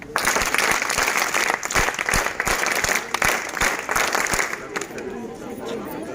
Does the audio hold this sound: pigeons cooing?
no